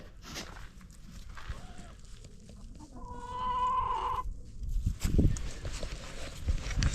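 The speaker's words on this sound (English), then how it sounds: "There's the chickens." Chickens clucking in a farm coop on a cold day, a short burst of fowl calls in the middle amid shuffling and rustling noises, fairly close but modest in level.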